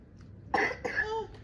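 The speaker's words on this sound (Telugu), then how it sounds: "దగ్గుతున్నావు" A person coughs indoors on a festive night, two quick harsh bursts close to the mic, the second slightly longer, against a quiet room.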